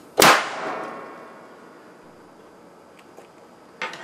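A capacitor bank discharges into a piece of carbon foam, giving a single sharp, loud crack that decays over about a second, followed by quiet room tone and a faint short clatter near the end.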